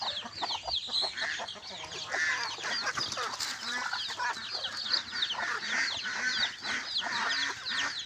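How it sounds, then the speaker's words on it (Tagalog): Many chicks and chickens cluck and peep continuously at close range on a backyard flock, a busy, overlapping chorus of short chirps and clucks filling the whole stretch with no pauses. "Ang daming sisiw mga boss, oh."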